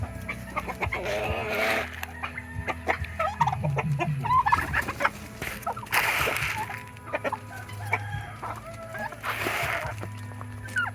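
Heritage turkeys gobbling among other poultry, several loud rolling gobbles bursting out at intervals over clucking fowl and low background noise, close by.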